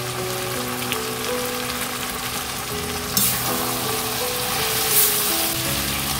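Ginger paste, chili paste and cherry tomatoes fry in a pan with a steady, close, dense sizzle that swells slightly partway through, with no voices.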